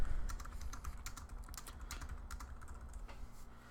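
Rapid keystrokes on a computer keyboard while entering text into a frame in InDesign, an irregular clatter of close, crisp clicks that runs steadily through the stretch with no talk over it.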